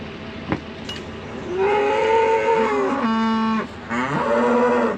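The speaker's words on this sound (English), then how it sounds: "Those cows are not happy." Cows mooing on a Texas farm during a cold polar vortex snap: a few long, loud, drawn-out bellowing moos, one after another and fairly close, with a faint clink just before them.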